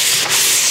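Brief scrape of a pole sander knocking high spots off dried drywall mud along a skylight opening edge, a short hissy rub under a second long, close and fairly loud.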